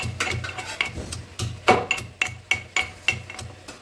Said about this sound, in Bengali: চলো থেতো করি দেখাই তোমাদের এভাবে আমি একটু হালকা থেতো করে নেব